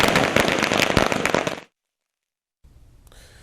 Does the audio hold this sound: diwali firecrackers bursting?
yes